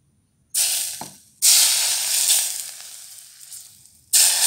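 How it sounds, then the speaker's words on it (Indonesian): Hot water is poured onto a fried-dumpling dough mixture in bursts, a loud hissing, sizzling rush with brief pauses between pours, close by and with no talking. "Siram pakai air panas ya."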